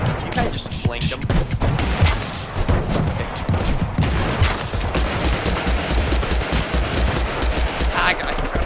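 Rapid gunfire bursts in the battle-royale game TABG, loud, dense repeated shots running through the whole stretch with players talking over them.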